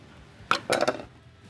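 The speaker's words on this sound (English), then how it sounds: "chop the ends off" A knife chops the ends off plantains on a cutting board: a sharp single knock, then a short cluster of three quick taps, close and fairly quiet with no talking.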